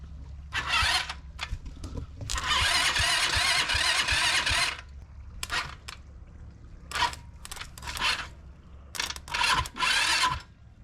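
A small go-kart engine repeatedly cranks and sputters to life in uneven bursts, one longer run of a couple of seconds among several short starts, loud and close over a low hum.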